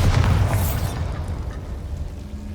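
Bombarda and Confringo spells exploding in Hogwarts Legacy: a loud, close boom with a deep rumbling tail that fades over a couple of seconds.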